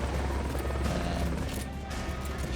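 Helicopter in Metal Gear Solid: Peace Walker, a continuous low rotor thrum and whir, loud and steady with no talk over it.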